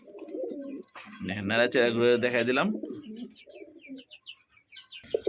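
Domestic pigeons at a breeder's loft, including a large hen and an even larger cock, coo softly in low, throaty bursts while someone talks nearby.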